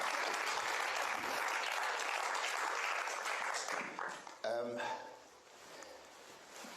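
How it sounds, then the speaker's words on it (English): A small audience applauds a volunteer at a magic performance, brisk clapping for about four seconds that dies away as a voice starts talking. "give her a nice round of applause"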